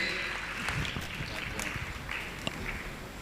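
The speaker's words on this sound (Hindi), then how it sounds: "जोरदार तालियों से उनका स्वागत अभिनंदन कर दें।" A crowd claps steadily for a few seconds, a dense patter of many hands, moderately loud with a few sharper individual claps standing out.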